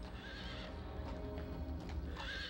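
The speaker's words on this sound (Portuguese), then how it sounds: "Um mensageiro chegou a cavalo" A messenger's horse arrives, neighing and whinnying faintly over a steady background with soft hoof clip-clops, quiet and somewhat distant.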